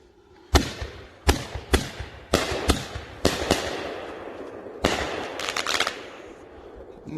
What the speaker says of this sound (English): Not bad for ball shells, but they are better when they're fused together.